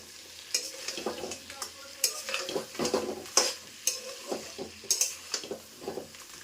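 Crabs are stirred into a frying spice paste, with repeated scraping strokes and sharp metallic clinks against the pan in an uneven rhythm over a steady sizzle.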